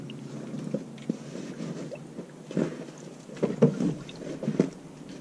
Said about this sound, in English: air pockets, air pockets coming out of the funnel.